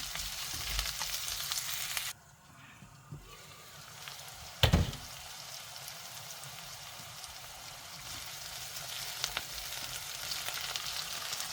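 Carrots and celery for a leek and spinach bake soften in a pan, giving a steady crackling sizzle that dips briefly before one loud clatter, then carries on evenly.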